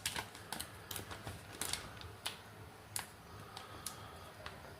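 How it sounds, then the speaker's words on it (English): Crinkly plastic tearing and rustling from an Indonesian army MRE ration heater bag being torn open at its notch, close and busy with repeated sharp crackles. "on top here there is a little notch. You can actually tear this open"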